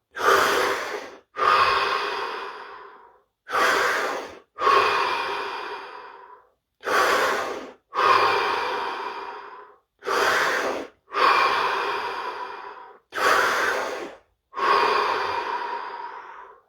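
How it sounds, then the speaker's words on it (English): Five slow, deep breaths taken close to the microphone: each is a long audible inhale and then a longer, sighing exhale, separated by brief pauses in an even rhythm. "This time we're going to take 5 deep breaths, followed by 30 seconds of absolute stillness and silence."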